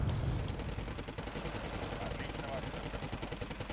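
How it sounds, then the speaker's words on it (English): ATGM missiles firing in the Wargame Red Dragon battle game, dense rapid bursts of cracking shots and booms over a low rumbling battlefield din, loud and continuous throughout. "What the hell is shooting ATGMs?"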